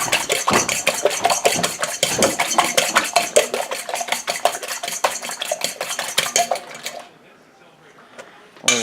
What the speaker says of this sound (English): I'm just using a fork because I can.